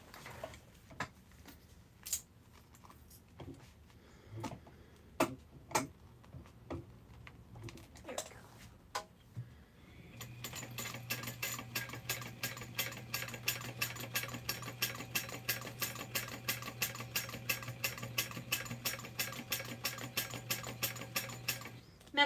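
A sewing machine stitches a quarter inch seam on a fabric clutch: scattered clicks and taps first, then a steady, fast mechanical whir running continuously for about twelve seconds at close range.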